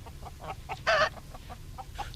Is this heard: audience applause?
no